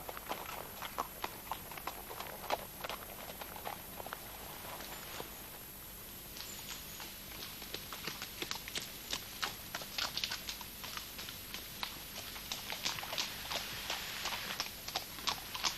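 Horse hooves clip-clop steadily along a trail during a 68 km endurance ride in Belgium, a rider dismounted to let the tired horse breathe; the even, moderately close footfalls run continuously with a brief softer patch midway.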